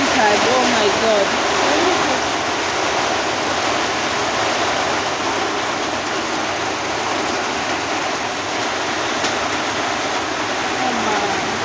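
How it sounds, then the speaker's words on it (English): Heavy rain pours and water rushes into a house, a loud, continuous wash of splashing and streaming that holds steady throughout, with faint voices underneath. "Guys, already water has entered."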